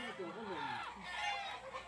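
Chickens clucking on a home property, short irregular calls heard at moderate distance with other background sounds, and people talking nearby.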